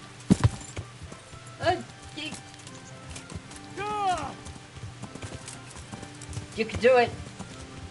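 Hooves clip-clop at an irregular pace while a horse whinnies in the video game Kingdom Come, mixed with a person talking briefly over the sounds.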